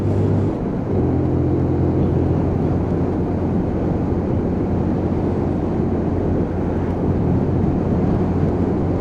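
A Keeway RKS Sport motorcycle engine runs steadily while riding, a loud continuous low drone mixed with wind rush at the microphone, holding a fairly even pitch throughout.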